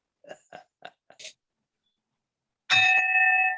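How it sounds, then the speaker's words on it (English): A bell rings out clearly to close a Zoom club meeting, a bright sustained chime after a few short sounds and a pause, loud and alone. "listen carefully for the bell to ring, because that will stipulate that we are adjourned."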